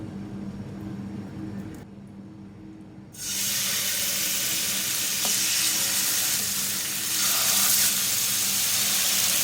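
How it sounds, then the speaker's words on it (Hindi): Chicken grilling in a few tablespoons of oil on a grill pan over medium heat, a loud steady sizzle that jumps up sharply a few seconds in after a quieter low hum, then crackles on continuously with no talking. "मीडियम आंच में मैं इसको ग्रिल कर रही हूँ।"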